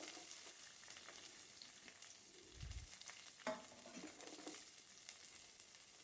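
Chopped onion sautéing with spices and curry leaves for kadala curry hisses in a soft, steady fry, with a few stirring scrapes and a brief clunk near the middle. The sound is quiet and close.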